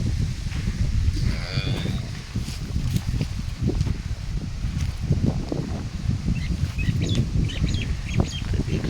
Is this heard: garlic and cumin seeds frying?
no